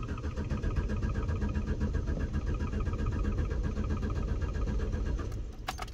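A car engine with a swapped-in Weber carburettor and its choke pulled out cranks steadily, with a rapid rhythmic chugging that runs for several seconds without catching, then cuts off.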